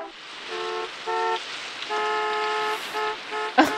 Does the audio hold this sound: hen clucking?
no